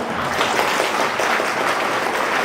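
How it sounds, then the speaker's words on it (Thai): A district education office audience in Nakhon Ratchasima gives steady, continuous applause welcoming their new director, a dense even patter of many hands with no pauses. "ให้ชาวเขตสองได้ปรบมือต้อนรับท่านเขตคนใหม่ของท่านครับ"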